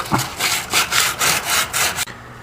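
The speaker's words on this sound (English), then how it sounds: "Take some sandpaper, clean it up a bit." Sandpaper scrubbed back and forth over a Jeep Cherokee XJ front wheel bearing backing plate, about five loud, rhythmic rasping strokes close up, then it stops abruptly.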